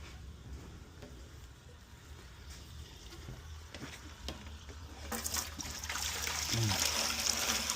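Water from a hose splashes into a fish-room aquarium, a soft trickle that swells into a louder, steady rushing pour during the last few seconds.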